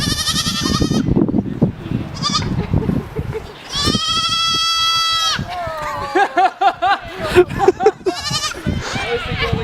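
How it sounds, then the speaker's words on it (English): Baby goats on a farm bleat and yell loudly, with long wavering cries and quick repeated bleats close by, and people talk among them. "That was the yelling goat."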